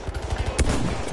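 Rapid automatic gunfire from the Battlefield 1 video game, a quick close burst of shots with one louder crack partway through, heard alone.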